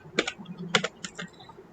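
Keystrokes on a computer keyboard while typing JavaScript code, a few quick clustered taps in short bursts, close and clear, with no talking.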